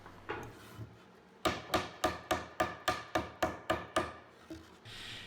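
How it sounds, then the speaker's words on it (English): A steady series of about ten sharp hammer blows driving a tight half-blind dovetail joint in plywood, evenly spaced and close, with a soft rustle before and after. "It was a little bit too tight for me to hammer it home."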